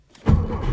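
An air-cooled Porsche 912 flat-four on a cold day gives a short, loud, low thump as the starter cranks and the engine turns over, close up, with nothing else heard.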